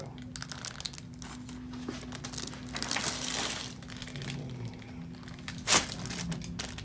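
Paper on an exam table crinkles and rustles close by in uneven bursts, with a sharper crackle near the end, over a low background hum.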